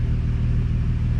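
Salvaged Nissan 350Z engine holds a steady, loud, close rumbling idle-to-rev drone for a brief moment, with no voices.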